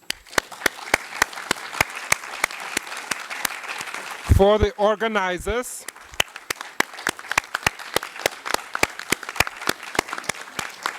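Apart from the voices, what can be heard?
audience applause for panel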